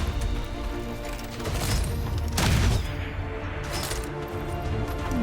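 Soldiers firing on a Muton in XCOM Long War 2: a burst of layered gunfire and booming impacts with crackling debris over a continuous game soundtrack, loud and dense through the whole stretch.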